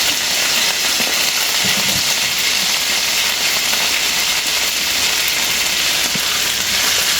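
Sliced onions sizzle in hot oil for chicken afritada, a loud, even frying hiss that carries on steadily with no talking.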